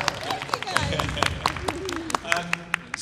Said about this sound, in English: I think we should have a round of applause.